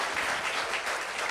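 An audience applauds and cheers at the grand finale of a pitch competition, a steady dense wash of clapping hands that stays loud and even throughout, with no talk on top.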